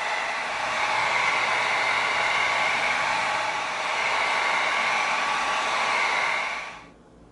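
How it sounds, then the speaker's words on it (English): Heat gun blowing on EVA foam, a steady loud whooshing hiss with a faint tonal hum, running continuously before cutting off abruptly at the end, no talking. "Now let's get the heat gun going."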